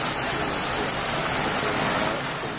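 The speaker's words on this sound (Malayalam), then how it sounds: "അപ്പോൾ റൂഫിൽ വീഴുന്ന മഴ നമുക്ക് പകർത്താം എന്നുള്ളൊരു വിചാരത്തിലാണ്." Heavy rain pours onto a roof in a dense, even hiss of countless drops, loud and unbroken throughout, with no talking.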